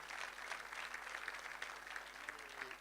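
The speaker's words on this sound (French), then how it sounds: "On peut les applaudir très très fort." Sustained audience applause rises at a French prize-giving and closing ceremony, a dense steady patter of many hands heard faint and from a distance for almost three seconds.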